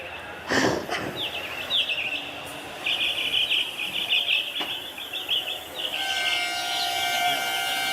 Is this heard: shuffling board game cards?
no